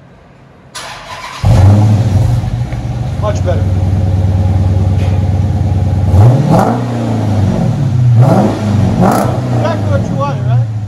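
Dodge Charger with a 5.7L HEMI V8 and Flowmaster exhaust, mid mufflers removed, heard from inside the cabin: the engine fires up and holds a steady deep drone, then revs up several times in loud swells. Voices talk over it.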